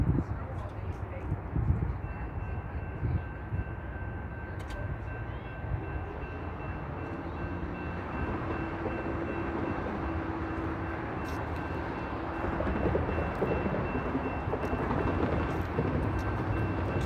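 A C-Train light rail train approaches a Calgary Transit station in cold weather, a broad steady rumble and rolling noise that grows slightly louder toward the end, with a faint high tone above it.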